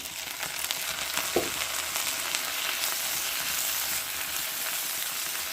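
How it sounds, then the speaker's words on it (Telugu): Finely chopped tomatoes fry in a pan for a broad bean pakoda curry, giving a steady, close sizzle with a brief stir partway through and no talking. "ఈ టమాటాలు కూడా కొంచెం బాగా మగ్గేదాకా ఉంచుదాము"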